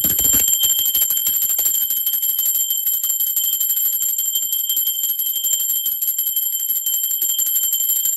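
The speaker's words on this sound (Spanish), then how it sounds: "Ahora sí, va campana, por favor" During a tarot reading a bell is struck once and rings out with a bright, sustained metallic tone that slowly decays, close and alone with no voices.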